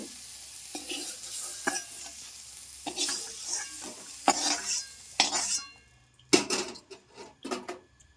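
Eggplant pieces frying over low heat in a little oil in a pan, with intermittent scraping and clinking of a utensil against the pan over a soft sizzle, in uneven bursts.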